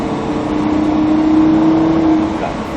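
Lamborghini Huracan engine pulling on a track at Mérignac, a loud, steady droning engine note that holds a sustained tone and rises slightly, close and continuous with no break.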